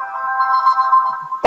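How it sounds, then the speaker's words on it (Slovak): A phone's text message notification tone plays as a sustained melodic ringtone, steady and fairly loud for over a second, ending in a short click, with no talking. "Pekná je SMS-ka."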